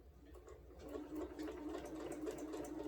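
A sewing machine stitches batik fabric squares for a quilted placemat, a steady fast whirring hum that builds after a quieter start and runs on continuously at close range.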